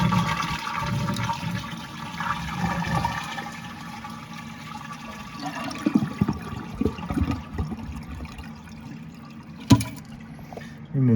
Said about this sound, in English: Drain the tank.